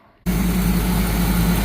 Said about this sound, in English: it's running idling really well. Sounds pretty decent.